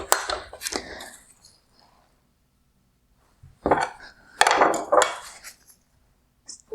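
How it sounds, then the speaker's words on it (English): Small flathead screwdriver prying and releasing plastic clips on a xenon headlight projector shroud of a 2013-2017 Range Rover, giving a few close, sharp clicks and plastic scrapes in two bursts separated by a quiet pause. "I'm going to have to go through the back of the projector using a small flathead screwdriver and release the clip on either side of the shroud."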